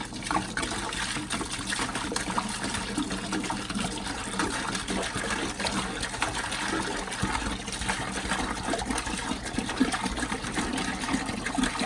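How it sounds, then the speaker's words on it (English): Water pouring steadily into a bucket, about five gallons for a vegan nutrient tea, a continuous loud rushing splash that holds even throughout. "Now we're going to add about 5 gallons of water."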